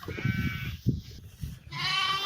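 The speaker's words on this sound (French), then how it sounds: "On est au brebis. Maman essaye de faire téter un agneau." Sheep and a lamb bleating on a farm, several wavering calls up close with a shuffling, snuffling background, a long clear bleat closing the sequence.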